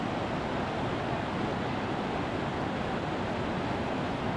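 A rain-swollen creek on the approach to Mount Baker rushes heavily, a dense, steady broadband roar of churning water filling the whole stretch at close range with no voices.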